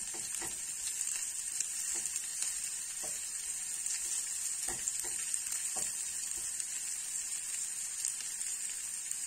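Rice for a pilaf browns in a pan with a steady, dense sizzle and crackle, close and continuous, with occasional soft stirring scrapes and no voices.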